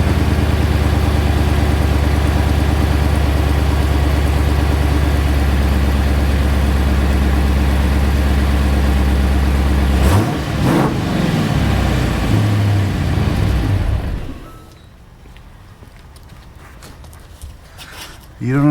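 Chrysler car with a small exhaust leak idles with a loud, steady low rumble for about ten seconds, then sputters and revs briefly before the engine drops away to quieter background sound.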